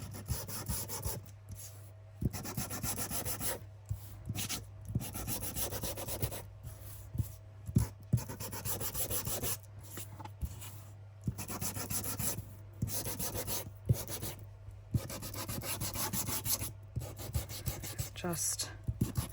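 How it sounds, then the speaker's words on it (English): A sander works over paper for a junk journal in rhythmic rubbing strokes broken by short pauses, close and steady, with a low hum beneath and no talking. "Just sanding off any imperfections."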